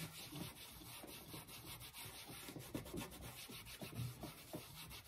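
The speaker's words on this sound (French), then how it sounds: "on va prendre un torchon pour nettoyer un petit peu en dessous tout de suite" Cloth wiping and rubbing under a jumbo card while it is being made, a soft steady scraping friction heard close up with no voices.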